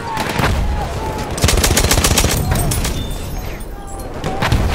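Rapid bursts from a Perino Model 1908 light machine gun in a World War One shooter at Achi Baba, loud and close, rattling almost continuously with heavier cracks mixed in.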